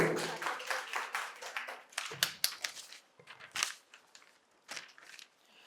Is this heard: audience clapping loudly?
yes